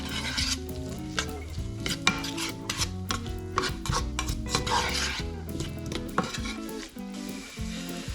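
Spices fry in a pan with oil for a slow-cooked butter chicken curry, a steady close sizzle broken by repeated scraping and clinking strokes of a utensil stirring against the metal.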